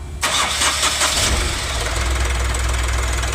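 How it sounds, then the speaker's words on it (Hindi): An Ashok Leyland Dost truck's diesel engine cranks briefly with a rapid pulsing turnover, then catches and settles into a loud, steady knocking idle, close by and with no voices. "अपना देख सकते हो पुरानी ईसीएम में भी गाड़ी स्टार्ट हो गई है"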